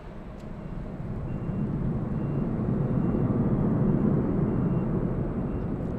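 An American Airlines jet passes at LAX airport on a gusty day, a broad roar that swells and holds steady, heard from a distance.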